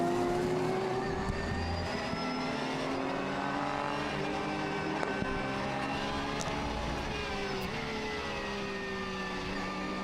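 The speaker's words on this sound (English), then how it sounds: "We ride on board through the 2nd half of this fiddly infield section." Onboard a Porsche race car during a qualifying lap through the infield at Okayama circuit, the engine note climbing and falling through gear changes with steady revving, heard from inside the car throughout.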